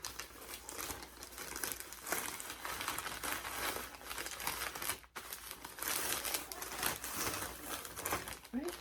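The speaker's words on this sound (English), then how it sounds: "Put it inside the polymer. Fold it over and bam." A polymer mailer bag crinkles and rustles as it is folded over a shipping package, with close, soft, continuous plastic crumpling and a brief pause midway.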